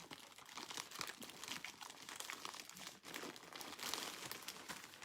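Plastic bags holding sewing zippers, sorted by size and type, crinkle and rustle steadily up close for several seconds, a dense continuous crackle with no talk over it.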